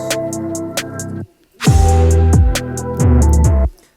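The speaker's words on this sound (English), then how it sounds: "So now we have a reverse snare sound" Reversed snare hits that swell up with reverb and cut off abruptly, layered over a looping beat with a deep bass tone, loud and close.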